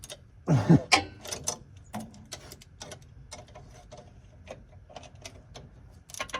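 A hand ratchet clicks in quick, uneven bursts while tightening a starter solenoid on a squarebody truck, with a louder burst at the start and lighter ticking after, close to the microphone.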